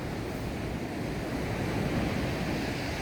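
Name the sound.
waves on a beach in Faro, Portugal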